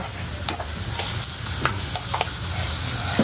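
Garlic toasts in hot oil in a pan for a beef-offal lugaw, a steady soft sizzle broken by several sharp stirring scrapes and clicks, with no one speaking.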